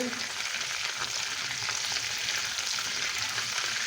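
Butter melts and sizzles steadily in a frying pan while stale bread is fried for a sauced bread dish, a close, even crackling hiss with no talk.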